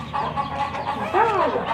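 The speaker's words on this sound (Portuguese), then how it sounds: "É a galinha, meu amor." A hen clucks in a run of soft, close calls beside her chicks on a small farm, with a louder rising cluck near the end.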